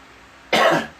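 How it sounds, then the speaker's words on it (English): A single short, sharp cough from an adult man painting in a home studio, close and abrupt in otherwise quiet surroundings. "when you guys hear me coughing"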